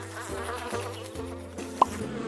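A bee buzzes steadily in an animation, its close, continuous drone wavering in pitch with a brief sharper blip near the end, with no talk.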